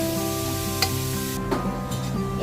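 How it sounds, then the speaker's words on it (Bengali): Onions frying lightly in a pan with cinnamon and bay leaves for karahi mutton, a steady close sizzle with a few sharp stirring clicks and no talk. "তো আমি এখন ভাজছি"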